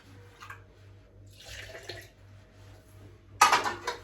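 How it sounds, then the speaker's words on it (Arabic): Water from a glass is poured into a bowl in a home kitchen, a short faint trickle and splash ending in a louder gush near the end, with light clinks of dishes around it. "غنشد هاد الكاس ديال الماء غنشمل بها هاد الكامله"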